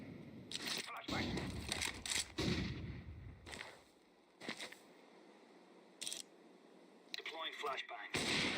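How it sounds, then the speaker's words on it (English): Flashbang grenades and gunfire in a video game: loud, sharp bursts of blasts and shots in uneven clusters with quieter gaps between them, mixed with voice callouts. "Deploying flashbang."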